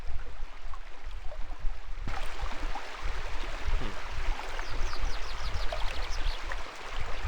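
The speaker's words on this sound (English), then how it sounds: "if you guys can hear the water sound, the waterfall sound" Steady rushing waterfall ambience in the game Sorcery! The Shamutanti Hills, a continuous broadband wash of falling water with faint chirping detail on top, loud and unbroken with no talk.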